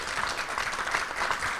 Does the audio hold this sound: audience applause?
yes